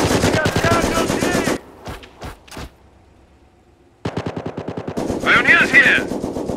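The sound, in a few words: machine gun fire in the video game Company of Heroes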